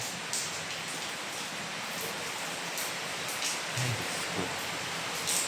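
Steady rain hissing down in strong wind, a constant broadband wash with occasional louder patters and drips.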